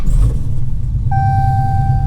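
A Dodge Challenger Hellcat runs with a loud, steady, close low rumble. Partway through, a sustained electronic chime tone starts and holds over the engine to the end.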